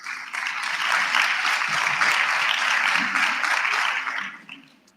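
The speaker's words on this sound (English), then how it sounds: "Can we also give them a round of applause?" Loud, dense applause from an audience at a student representative council induction, filling the room for about four seconds before fading out.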